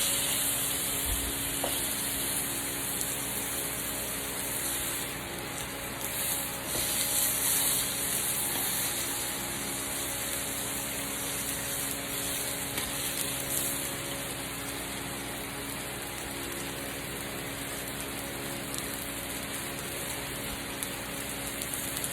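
Salmon pieces fry in a pan with a steady, close hiss and sizzle that holds at an even level throughout, with faint crackles and a constant background hum.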